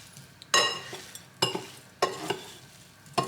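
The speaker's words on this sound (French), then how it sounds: "Je viens mélanger le tout rapidement." Tofu with curry spice mix, salt and olive oil gets stirred quickly in a bowl, four sharp scraping strokes close up with short quiet gaps between them.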